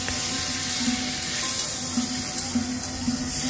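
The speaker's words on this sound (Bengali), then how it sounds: "খুন্তির সাহায্যে খুব ভালোভাবে নেড়ে দিচ্ছি" Fried fish head pieces being stirred with rice in a pan on lowered gas heat, giving a steady soft sizzle with scraping stirs throughout, close and alone.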